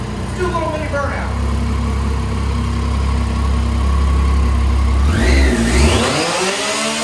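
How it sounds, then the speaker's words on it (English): A Triumph Street Triple R 675 motorcycle engine revs hard through a mini burnout, a loud, close, steady roar that climbs sharply in pitch near the end before dropping back. "First, let's do a little mini burnout."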